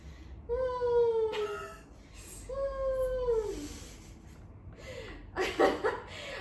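A voice imitates a snoring noise with drawn-out, whiny, wavering tones, three or four long sounds in a row, close and moderately loud.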